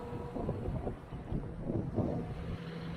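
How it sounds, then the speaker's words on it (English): Wind buffets the microphone in a constant low rumble, gusting slightly, with no voices. "Still quite windy out."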